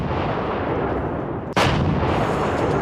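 During a 21-gun Pakistani cannon salute in Lahore, one sharp, loud blast cuts through a constant heavy roar of background noise.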